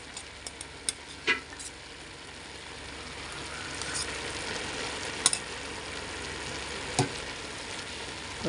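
Chicken biryani in a pot, just stirred with ghee added, gives off a steady close frying hiss with a few soft scrapes and clinks on top, and no voices.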